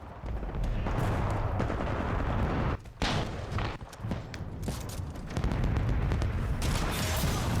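Rapid gunfire and explosive booms fill a shooter video game, loud and nearly continuous with short gaps, with no talking.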